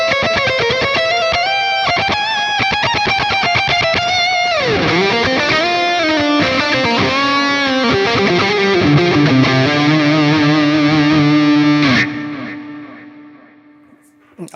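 Heavily distorted metal/djent electric guitar through a Line 6 Helix preset with no noise gate, fast chugging palm-muted riffs giving way to sustained bends and ringing chords, loud and continuous before a final chord decays into near silence.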